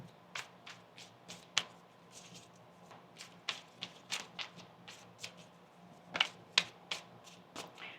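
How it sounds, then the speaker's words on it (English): Tarot cards are shuffled in short, crisp bursts of riffling and tapping, close and quiet, with small pauses between bursts and no talking. "get one more shuffle here"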